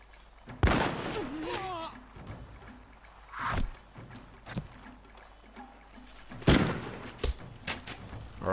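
Troops fire guns in a Mount & Blade: Warband battle, sharp scattered shots and heavy thuds spaced through the clip, with a couple of loud volleys standing out over battlefield noise.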